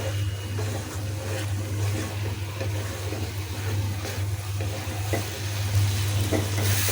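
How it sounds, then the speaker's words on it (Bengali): Prawns frying in a pan for prawn bhuna, with green chillies added, give a steady, close hiss and sizzle over a low constant hum, with no voices. "আর একটু ভালো করে ভেজে নিব, তারপরে ঝোল অ্যাড করব।"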